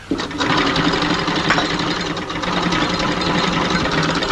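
A sewing machine hums and chatters continuously up close in a 1930s London setting, a steady dense mechanical running sound with no pauses.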